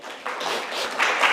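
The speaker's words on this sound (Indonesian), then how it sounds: "Tepuk tangan dulu untuk beliau." Church congregation applauding during a worship service, a steady broadband wash of clapping that swells and grows louder toward the end, with no clear speech over it.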